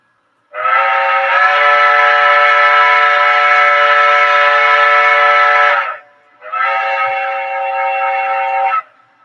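A small faux whistle on a model train sounds two loud, steady blasts close by: a long one of about five seconds, then a shorter one after a brief gap.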